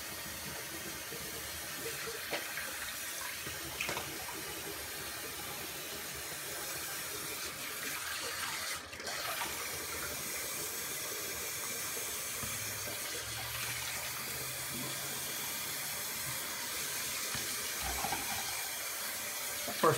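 A bathroom tap runs steadily while someone rinses off during a wet shave with black tea shaving soap, a continuous close water hiss with no talk.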